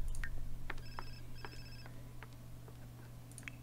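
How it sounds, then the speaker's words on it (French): A mobile phone in The Sims 4 rings faintly, with a few short electronic tone bursts over a low steady background hum. "le portable sonne"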